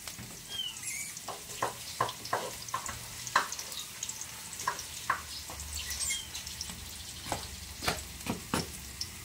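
Noodles being sautéed in a pan with garlic and onion, pancit canton style: a steady low sizzle with repeated sharp clinks and scrapes of a utensil against the pan, close and fairly quiet, no voices.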